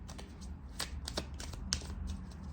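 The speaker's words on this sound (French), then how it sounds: "Je vais également vous tirer une carte chemin de vie" Tarot cards being handled and drawn from a deck, a run of soft, quick papery flicks and slides at close range over a quiet background.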